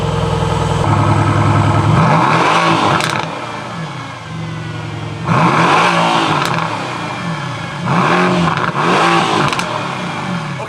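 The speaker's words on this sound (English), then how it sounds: "I'll fire it up and do a few revs for you in Sport Plus and in Race" A stationary 2021 Mercedes-AMG GT Roadster in park revs hard three times in Sport Plus and Race modes with active exhaust on, each blip climbing to a loud roar, then dropping back to a burbling idle.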